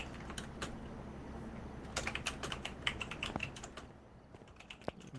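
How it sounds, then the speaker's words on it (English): Computer keyboard typing loudly and rapidly over a gaming voice chat, a dense run of sharp clacking keystrokes that grows busier in the middle, then thins to a few scattered clicks. "clickety clacking so hard over there with your mic active"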